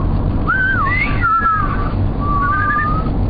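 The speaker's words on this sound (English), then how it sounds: "we're going to whistle for you" People whistle a wavering melody in two phrases, loud and close over a steady background rumble, with no talking.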